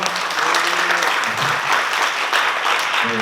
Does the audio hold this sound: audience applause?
yes